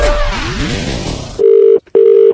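A phone is dialed for a call: a brief chirpy tone sweep gives way to two loud, steady ringback-style beeps separated by a short gap.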